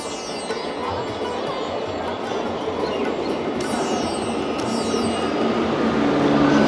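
A Mecheda local train rolls into Mourigram station on the Howrah–Digha line, a broad steady rumble that grows slowly louder, with faint high squeals from the wheels and rails.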